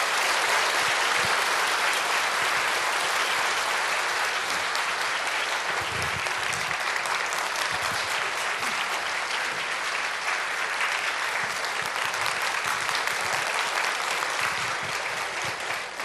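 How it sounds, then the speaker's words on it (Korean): A church congregation in Geoje gives loud, dense, continuous applause for a guest speaker at a revival meeting, steady and full throughout with no break. "이런 마음을 담아서 큰 박수로 모시겠습니다."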